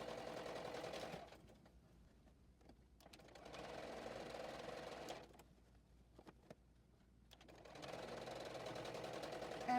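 A JUKI sewing machine back tacking over overlapped fabric while making a fabric basket, its fast needle chatter running in three bursts separated by short pauses where the stitching stops.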